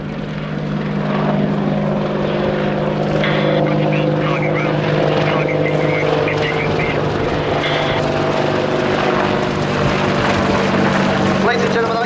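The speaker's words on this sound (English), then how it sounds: "Our Apache crew work together to operate and flight their aircraft." An Apache attack helicopter performs a tactical demonstration at an air show, its steady, loud rotor thrum and engine drone filling the whole stretch continuously, with a public-address announcer talking over it.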